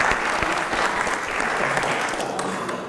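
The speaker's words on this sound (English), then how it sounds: "let's give these 2 guys a round of applause" Lively, loud applause from an audience at a speaking event, dense clapping with distinct individual claps popping through, sustained for a few seconds.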